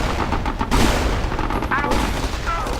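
A video game battle with a big tank rolls on, dense rapid gunfire and booming blasts layered over a low rumble, loud and continuous for a few seconds.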